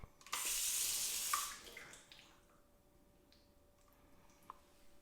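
Water sprayed in a fine mist setting onto a steep coated panel, a loud hissing burst lasting about a second and a half, then fading into quiet drips and faint ticks.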